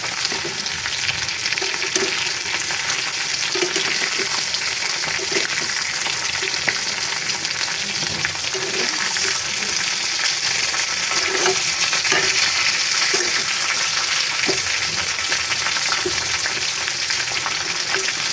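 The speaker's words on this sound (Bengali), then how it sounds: "আমি উল্টে পাল্টে সবগুলো মাংসকে হচ্ছে লাল করে ভেজে নিব" Meat pieces frying in a kadai and being turned repeatedly to brown them: a steady, loud, continuous sizzle with faint scraping and stirring throughout, and no voices.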